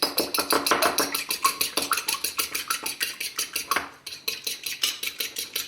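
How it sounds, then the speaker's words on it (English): An egg beaten in a bowl for a puff pastry egg wash: quick, steady clinking taps of utensil against the bowl, evenly rhythmic and close, with a brief pause near the end before the beating resumes. "I'm gonna crack our egg and scramble it up so that we can brush it onto the top of our puff pastry"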